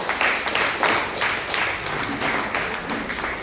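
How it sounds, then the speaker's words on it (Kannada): An audience claps together at a community gathering, giving a sustained, fairly loud burst of applause that rises and falls in waves for the whole stretch. "ಆಂಟಿ ನಿಂತ್ಕೊಳ್ಳಿ, ಅವ್ರಿಗೆ ಚಪ್ಪಾಳೆ ಹೊಡಿ"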